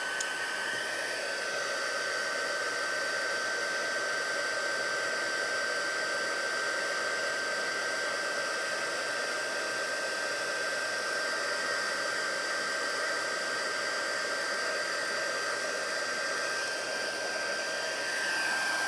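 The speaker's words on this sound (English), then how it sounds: "I'm going to bring in my heat tool. Now this might get a little bit noisy," A heat tool blows steadily for the whole stretch, melting clear embossing powder on a die-cut leaf: an even, moderately loud hairdryer-like whoosh with a constant high whine running through it, no talking.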